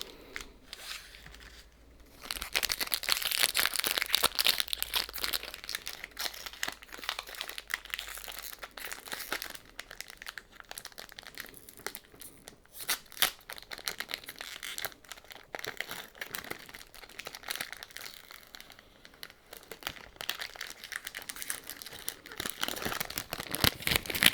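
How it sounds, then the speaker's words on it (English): Foil Disney Lorcana card pack wrappers are crinkled and torn open up close for ASMR, a steady run of crisp crackling and rustling with occasional sharper rips, no talking. "the next 3 packs are going to be ASMR pack openings"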